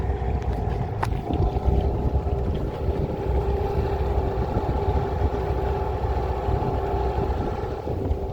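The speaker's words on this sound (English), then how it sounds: "It sounds like a cylinder's dropping out." A small boat's engine runs rough with a cylinder dropping out, giving a steady, loud, close droning rumble throughout, with some wind noise on the microphone and no talking.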